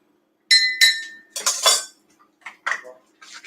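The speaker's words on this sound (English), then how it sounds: "we're going to stir it up" A spoon clinks against a glass while stirring a creamy coffee drink, giving several sharp ringing chinks and scrapes in irregular bursts, close and fairly loud against near silence.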